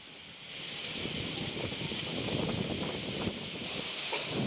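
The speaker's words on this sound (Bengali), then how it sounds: "প্রবল বৃষ্টি হচ্ছে ফ্রেজারগঞ্জে" Dense, steady hiss of heavy rainfall pouring down during Cyclone Remal at Fraserganj, continuous and moderately loud, with no voices.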